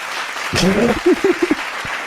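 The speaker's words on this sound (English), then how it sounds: "That's what the crowd was like." Crowd at a minor league baseball game bursting into applause, a short loud clatter of claps and cheers with a few separate pulses trailing off.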